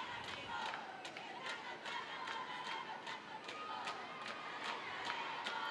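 A stadium crowd at a Tigres Femenil football match keeps up a steady roar with chants and rhythmic claps, while a commentator talks over it.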